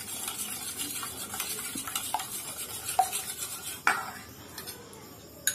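A spoon works salt into a beaten egg mixture in a bowl, making soft, quiet swishing with scattered light clinks against the bowl. No one speaks.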